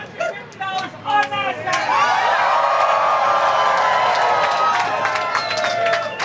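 A room of people at a Nasdaq opening bursts into applause and cheering, with whoops and excited chatter building into a steady, loud crowd roar after a few brief voices at the start.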